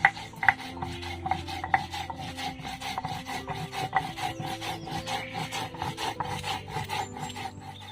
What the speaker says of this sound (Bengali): বন্ধুরা, এবার এই মৌরিটা বেটে নেব